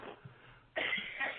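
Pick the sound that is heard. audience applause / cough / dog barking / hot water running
cough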